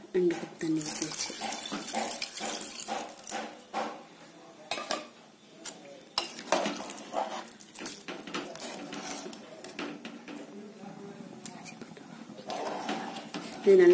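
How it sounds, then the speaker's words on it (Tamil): Two cups of water pour and splash into a metal pot for vegetable biryani, with faint clinks of cookware, while a person talks over it. "ரெண்டு கப் தண்ணி ஊற்றி"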